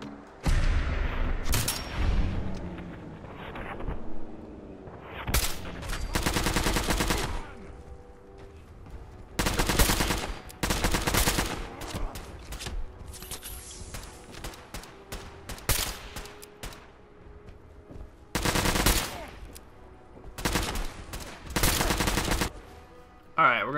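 An explosive minigun in Fallout 4 roars in repeated loud bursts of rapid-fire shots and blasts, separated by quieter gaps, spread over around twenty seconds.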